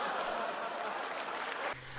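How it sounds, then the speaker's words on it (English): Audience applause from a played clip, a dense wash of clapping and crowd noise holding steady for most of the moment before cutting off abruptly near the end. "And then everybody applauded him"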